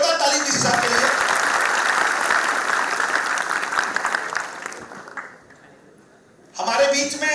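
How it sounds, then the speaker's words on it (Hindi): An audience at a poetry gathering honouring martyrs claps loudly and steadily for several seconds, then the applause fades and dies away near the end, where a voice comes in. "जोरदार ताली दीजिए साहब के लिए।"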